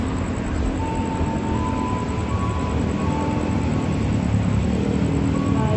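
KRL electric commuter train at Klender station, a steady loud rumble and rolling rail noise with faint high tonal whines, continuous throughout with no talk.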